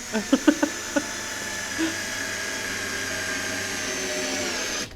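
A small, weak cordless drill gives a few quick trigger taps, then a steady, thin whirring run that continues for several seconds before stopping abruptly.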